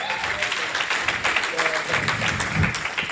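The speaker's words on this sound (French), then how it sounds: "applaudissez pour elle" An audience claps in applause at a gathering, a brief patter of hands mixed with a voice talking over it.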